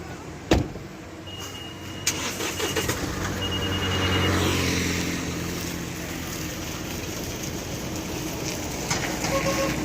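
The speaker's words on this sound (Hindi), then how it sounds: "गाड़ी आ गया।" A vehicle approaches and rolls past on a road between Delhi and McLeodganj, its engine and tyre noise swelling to a peak midway and then easing off, with a sharp knock near the start and no talk.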